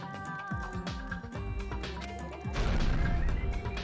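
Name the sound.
body crashing into a pillar in the video game Danganronpa 2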